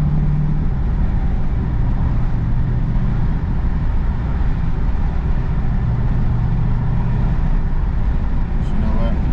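A 2020 Dodge Charger Daytona Hellcat Widebody cruises in track mode with a windows-cracked cabin rumble, a deep steady engine drone and road noise under a driver talking.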